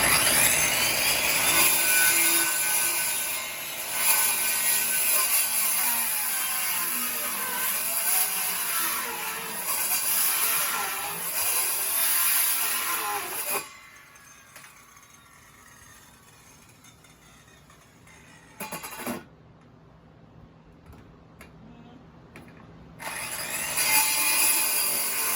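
A saw grinds loudly down into a tree stump, making a coarse, continuous rasp that drops to quieter intervals partway through and then resumes, close by with no talking.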